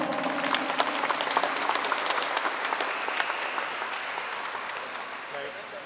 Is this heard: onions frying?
no